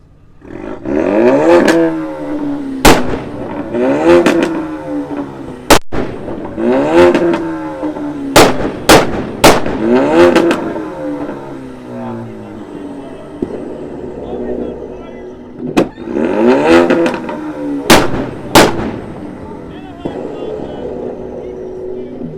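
A Ford Mustang EcoBoost at a car meet revs repeatedly and spits flames, each rising roar broken by loud sharp backfire pops, several cracks coming in quick pairs, close and powerful with outdoor crowd noise in the background.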